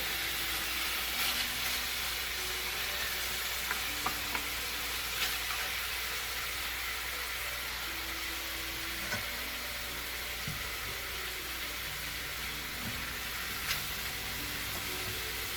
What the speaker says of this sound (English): And turn it around, make sure everything is nice and incorporated.